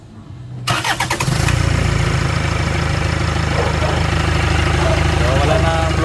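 A Hyundai Tucson with a suspected faulty turbo cranks with a few rapid starter chugs, then catches and settles into a loud, steady idle heard up close, and a voice speaks faintly under the running engine.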